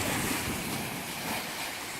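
Manatees thrashing and splashing in the water close by, a dense, continuous wash of churning water and surf-like noise with wind buffeting the microphone, no talk.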